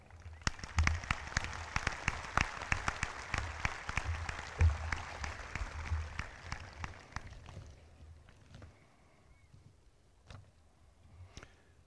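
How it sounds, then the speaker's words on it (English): Crowd applause at a high school graduation ceremony, a dense wash of clapping with distinct individual claps that thins out after about eight seconds into a few scattered, sparse claps. "Another big round of applause for her"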